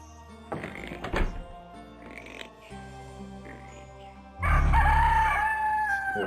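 A chicken in the video game Yono and the Celestial Elephants squawks and clucks amid game thunks and chimes, ending in a loud, close, sustained crowing-like call.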